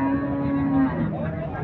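A Sahiwal bull at a livestock market lets out one long, loud, close moo that holds a steady low tone before breaking into a rougher, wavering end.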